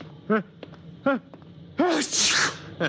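A man in a vintage radio drama gives one sharp sneeze after a couple of short voiced breaths, loud and close, with a hissy burst trailing into a breathy sound at the end.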